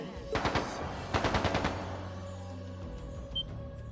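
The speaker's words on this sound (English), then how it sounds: "That didn't sound good. That sounded like gunfire." Two short bursts of rapid automatic gunfire in The Legend of Heroes: Trails of Cold Steel II, each several quick shots, close and loud, followed by a low steady hum.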